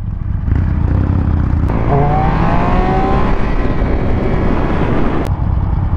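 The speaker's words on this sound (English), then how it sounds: "Do a wheelie, bro!" A motorcycle engine revs hard during a wheelie, loud and close, with a steady roar whose pitch sweeps upward in a couple of surges before settling back, continuous throughout with no talk.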